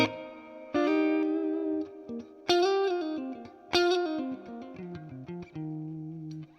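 Electric guitar notes and chords played through a Fender Deluxe Reverb amp with lush reverb, each phrase ringing out and decaying into a wash of echo.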